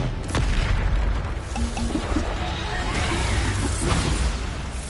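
Bombarda spell explosion in the video game Hogwarts Legacy, a sudden heavy boom with a sharp crack near the start, then a rumbling blast tail and swooshing debris that carries on loud throughout.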